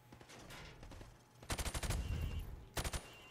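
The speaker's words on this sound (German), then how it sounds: "Schießen Sie durch das Holz auf die Ziele." Automatic gunfire in Modern Warfare Remastered, shooting through wood at targets: a rapid burst of close, loud shots, a pause, then a second shorter burst.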